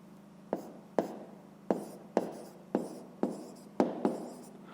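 A pen writes on paper during a fifth-grade math exercise, making seven or eight sharp, evenly spaced strokes, each a quick tap trailing into a brief scratch, close and clear over a low steady hum.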